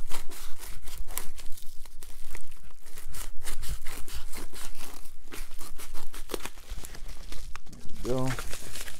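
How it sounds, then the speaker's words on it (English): A package from eBay holding comic books is cut open along the top, giving a steady run of crinkling and tearing packing noises close by, with a brief tonal scrape near the end. "Cut this open on the top."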